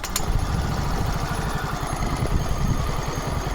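An old motorbike engine starts with a sharp burst, then settles into a steady, rapidly pulsing idle, close and moderately loud with no talk.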